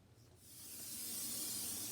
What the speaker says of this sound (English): And I'm spraying my pan real good